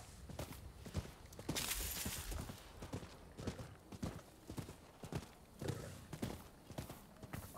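Horse hooves clip-clop at a steady walking-to-trotting rhythm in the video game Rise of the Ronin, fairly close and alone, with a brief burst of noise partway through and an occasional faint whinny.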